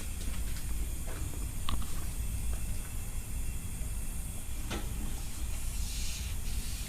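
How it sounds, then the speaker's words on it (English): Steady broadband air hiss from a boost leak at a turbo compressor under about 35 psi, continuous and fairly loud, with a few faint clicks and knocks in the background. "If there's a leak back there at the compressor, it'll start leaking more."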